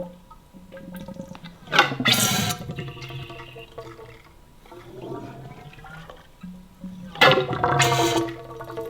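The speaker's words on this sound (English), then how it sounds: "you'll just basically listen when you're doing this, and you'll hear the air purging" Air purging from a Cogent fork suspension kit on a Kawasaki KLR 650 as the fork is pumped up and down: wet gurgling and hissing with two louder bursts near the start and end, steady bubbling between them.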